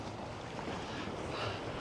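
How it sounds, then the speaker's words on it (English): Waves wash along the Lake Michigan shoreline at Racine, a steady broadband surf roar mixed with gusting wind buffeting the microphone, continuous with no voices. "the waves are getting a little bit bigger here"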